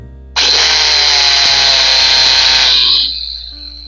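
A high-pitched angle grinder with a fault whines loudly for about three seconds with a harsh, buzzing rattle, then winds down as it switches off.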